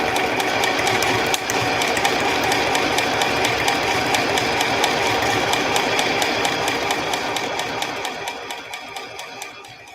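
A sewing machine runs a quick stitch for a craft project, its needle ticking in a fast, steady mechanical rhythm that stays close and even, then slows and fades toward the end.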